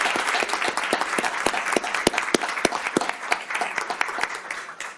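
An audience at a school board meeting claps for a student, giving steady, moderately loud applause from a small crowd of many hands for several seconds.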